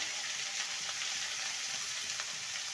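Vegetables for a drumstick curry fry with turmeric in a pan, giving a soft, even sizzle with a few faint stirring sounds and no voices.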